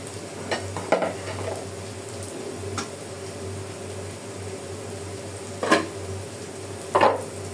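Dried fish, potato and onion cooking in a pan beside a taro curry, with fish added and water poured in; a steady low sizzle under a few sharp clatters and stirring scrapes, no talking.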